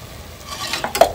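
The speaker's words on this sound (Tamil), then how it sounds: "இஞ்சி பூண்டு நல்லா வதங்கிடுச்சுங்க. இப்போ 2 tablespoons மிளகாத்தூள் ஆட் பண்ணிடுங்க." Ginger and garlic sautéing in a pan with chili powder being added, cooked outdoors on an open terrace: a soft, brief sizzle that rises into a few scraping stirs near the end.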